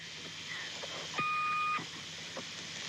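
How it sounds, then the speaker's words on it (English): Electronic beeping tones from a number station transmission on a voicemail recording, a steady tone with a brief brighter beep in the middle and faint clicks, heard alone without voices. "I got the same boops and beeps, like boop, boop, boop, boop, boop, boop, almost like a transmission was coming through."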